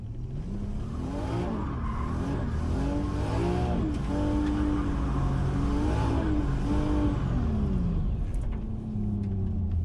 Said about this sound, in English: I'm about to do a donut to warm up the tires